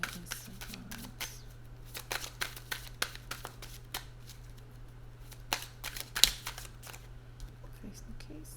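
Tarot cards shuffled by hand, a run of crisp riffling flicks and soft slaps in an irregular rhythm, close and fairly quiet over a low steady hum.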